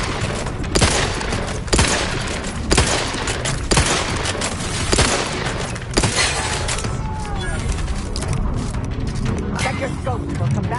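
Rapid bursts of gunfire in the video game The Outer Worlds 2, loud and sharp with repeated heavy shots and volleys across the whole stretch, alongside brief game voices.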